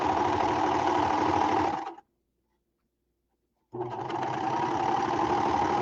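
A Baby Lock serger sews fabric in two steady, loud runs of fast, buzzing motor and stitching noise, close up, separated by a sudden stop and nearly two seconds of silence before it starts again.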